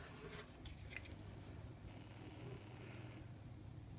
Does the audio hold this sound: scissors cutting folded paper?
yes